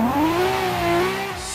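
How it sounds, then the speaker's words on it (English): A car engine in the Assetto Corsa racing game revs up during a clutch kick, a steady rising then falling tone held for about a second and a half, loud and close. "Plenty of clutch kicks today, man."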